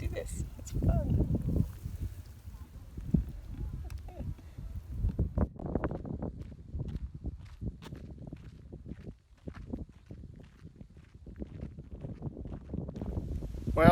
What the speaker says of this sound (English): Sorry for the wind. It's getting a little windy out here,